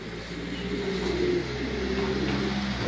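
Pigeons coo softly in a loft, a low murmuring call rising and falling against a steady background hum, fairly faint and with no talking.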